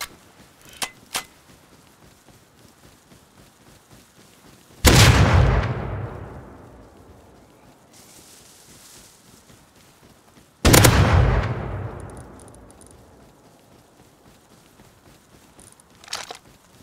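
Gunfire in the video game Rust: two heavy, booming shots about six seconds apart, each with a long echoing tail, loud against a quiet background with faint clicks in between.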